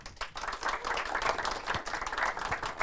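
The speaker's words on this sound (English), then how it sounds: "So a big round of applause." Audience applause welcoming a speaker at a design talk, a short steady wash of clapping at moderate loudness lasting under three seconds.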